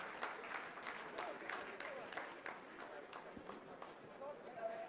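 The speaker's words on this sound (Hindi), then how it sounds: "आप इस तालियों के गड़गड़ाहट को सुन सकते हैं" Scientists at mission control break into sustained applause after the lunar descent phase of the Chandrayaan-3 Moon landing, with dense clapping and a voice talking over it throughout.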